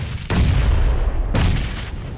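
Two loud, close grenade explosions in a competitive shooter video game, each a sharp crack followed by a deep rumbling tail, about a second apart.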